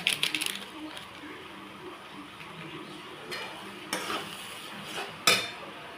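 Tarka dal being stirred in a pan with its spice mix, a utensil scraping and clinking against the metal in a few sharp bursts at the start and later, over a low background hiss.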